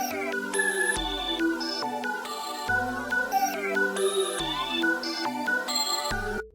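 Layered synth chords built from a Serum preset called Saw in the Sea for a futuristic beat, bright, blocky chord stabs changing every half second or so over sustained low notes, loud and continuous with no voices.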